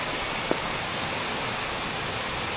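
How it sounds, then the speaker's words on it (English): A waterfall in a Chiapas canyon, heard from the bottom: a steady, broad roar of falling water fills the scene continuously, with one brief faint tap near the start and no voices. "this is the view from the bottom to see the waterfall"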